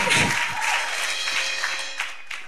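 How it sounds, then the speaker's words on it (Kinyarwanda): A church congregation breaks into applause during a Kinyarwanda sermon, clapping loudest at the start and thinning gradually over a few seconds, with some scattered claps trailing off. "Komera Imana amashyi menshi."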